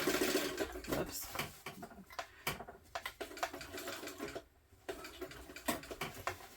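A sewing machine stitches backwards along a tote bag in short, uneven bursts of rapid needle clatter with brief pauses between them, close and clear.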